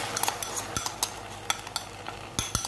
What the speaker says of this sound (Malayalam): അതിനുശേഷം നല്ലവണ്ണം ഒന്ന് ഇളക്കി കൊടുക്കുക.